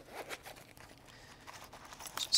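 A Pioneer Commuter zip wallet is zipped shut in a quick rasping run of small zipper-tooth clicks, close and fairly faint, ending with a sharper scrape.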